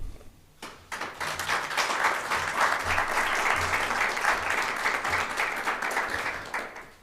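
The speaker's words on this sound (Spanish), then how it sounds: "A todos ellos les damos un cordial aplauso." A hall full of guests at a Chilean academic-year inauguration ceremony gives a warm round of applause for the universities, a sustained, even wash of many hands clapping with no voices, fading out at the end.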